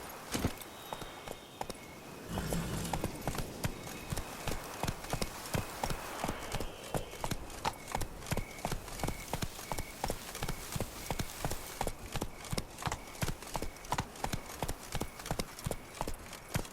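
A horse's hooves clip-clop in a steady, fast rhythm in The Witcher 3 game, loud and close, continuing throughout with a faint neigh.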